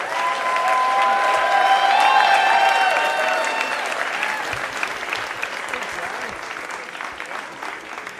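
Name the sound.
audience applause for Jai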